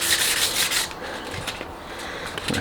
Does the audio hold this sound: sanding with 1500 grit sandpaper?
yes